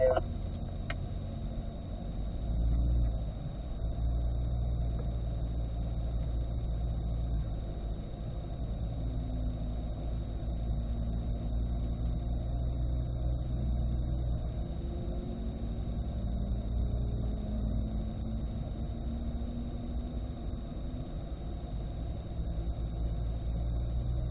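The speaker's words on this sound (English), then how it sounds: "We're going to get to put our cars in drive, put them in manual mode. We'll go and roll forward." A Chevrolet C8 mid-engine Corvette creeps forward in manual mode, giving a low, steady engine rumble that stays constant and fairly close throughout, with a faint high tone over it.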